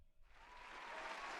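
Soundboard applause effect swells up quickly after a brief click and holds as a dense, even wash of clapping from a crowd.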